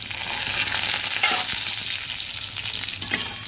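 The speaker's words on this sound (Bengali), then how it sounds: "হ্যাঁ, আলুগুলো অনেকটা ভাজা হয়ে এসেছে।" Potatoes fry in a pan for a ridge gourd and poppy seed dish, giving a steady close sizzle with a few brief stirring scrapes and no talk.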